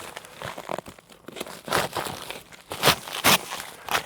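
Plastic packaging and wrapping of a boxed Axial SCX10 SR5 Hilux RC truck being torn open, a run of close, loud crinkling and ripping bursts that build and peak near the end, with no talking.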